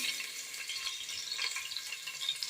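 Finely chopped onion crackles and sizzles in hot oil, a bright, dense hiss with soft stirring scrapes, close and steady throughout with no talk.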